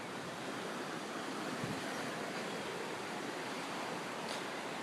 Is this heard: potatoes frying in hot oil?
no